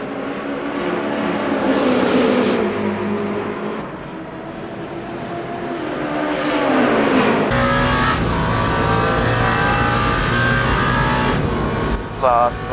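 A Porsche Penske number 6 race car roars at racing speed at Le Mans in the video game Le Mans Ultimate, its loud engine revving and shifting continuously while a commentator talks over it.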